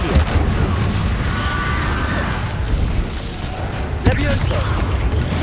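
An Incendio fire spell in Hogwarts Legacy roars with a steady whooshing, crackling burst. A sharp impact lands near the end, and a voice speaks beneath the effects.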